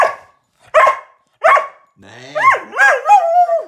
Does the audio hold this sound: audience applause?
no